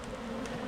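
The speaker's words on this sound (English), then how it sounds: "there's a lot more bees in here, by the way" Honey bees buzz steadily around a backyard hive during a honey harvest, a dense continuous drone that sits close and fills the whole moment without pause.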